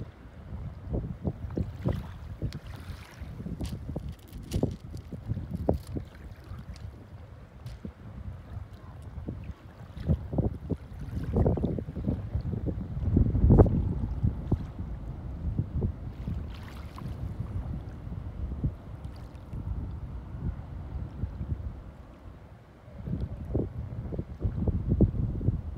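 A freighter ship sails into Whitefish Bay on a lake, its low steady rumble mixed with gusty wind buffeting the microphone outdoors, continuous for the whole stretch with no talking.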